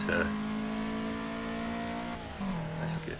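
Lada-engined car driving in the Assetto Corsa racing game, its engine holding a steady harmonic drone that drops in pitch near the end, continuous and fairly loud with no talk.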